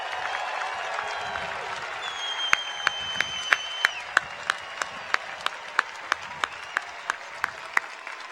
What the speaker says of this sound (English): Again, we say thank you and we applaud you.